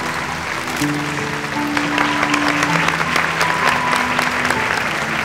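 Wedding guests clap together at a remarriage ceremony, a steady continuous patter of many hands over background music with sustained tones, holding an even level throughout.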